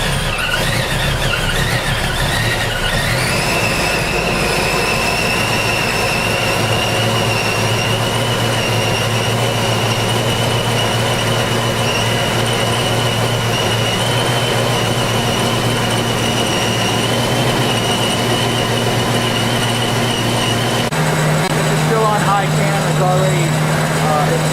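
A 1978 Cadillac Seville with fuel injection runs steadily at a loud, constant engine drone, then its pitch shifts lower near the end as it settles down to idle.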